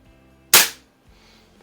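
A single sharp shot from an eighty-year-old Benjamin 137 pistol, fired close by at an Olympic-style target session, with a bright crack that decays quickly into near silence.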